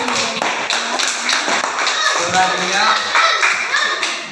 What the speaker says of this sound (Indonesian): Beri tepuk tangan pada kelompok A.